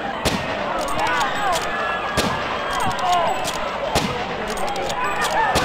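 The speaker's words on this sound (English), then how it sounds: "I'm just shooting everything I can." Gunfire in the JFK Reloaded shooting game: repeated sharp shots at irregular intervals over a steady bed of game noise and crowd ambience, with a voice talking at times.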